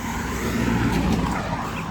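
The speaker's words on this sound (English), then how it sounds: "Got cars coming." Steady road noise as cars pass nearby, a loud continuous whoosh of engines and tires with no voices.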